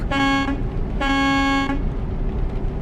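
Two loud, sustained horn blasts, each about half a second long, from a truck horn in the video game Euro Truck Simulator 2, with no talking.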